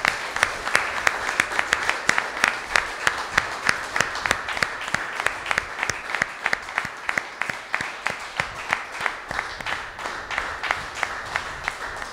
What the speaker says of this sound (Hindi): ताली बजाएं, गुरुपद की अभिवंदना करें।